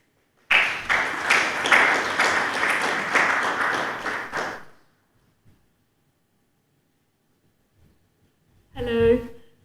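Conference audience applause swells for about four seconds, fairly loud and close, then fades to near silence before a single voice begins speaking.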